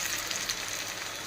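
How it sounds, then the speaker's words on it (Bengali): Heavy rain pouring down outdoors under a dark sky, a dense continuous hiss that stays loud and steady throughout, no talk. "জোরে বৃষ্টি পড়ছে।"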